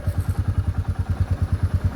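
Motorcycle engine thumping at low revs as the clutch is slowly released without throttle, a close, steady rapid pulsing beat with no talk.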